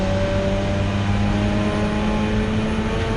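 Race cars circling Donington Park circuit, among them a Mazda RX8, Honda Civic and Toyota MR2, produce a steady, continuous engine drone with no gaps or pass-by swells.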